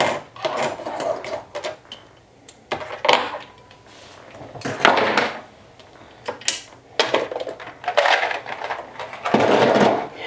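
A sewing machine stitches slowly around the pinned edge of a Sew Sweetness Gloss cosmetic bag, in short stop-start bursts of whirring with clicks and fabric handling between them, fairly close.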